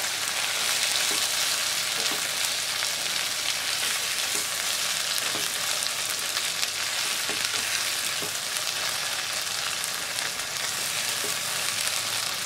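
Petai beans, onion, chili and shrimp paste stir-fry sizzles steadily in hot oil, a dense continuous hiss with occasional light stirring clicks, close and fairly loud throughout, no voices.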